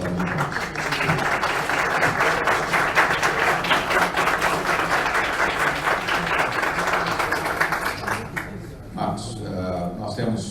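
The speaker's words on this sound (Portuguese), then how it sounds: "pedir que o Marcos seja saudado com uma calorosa salva de palmas" Warm round of audience applause greeting a guest at a Latin American event, dense clapping that holds steady for about eight seconds before thinning and fading, with a voice speaking as it dies away.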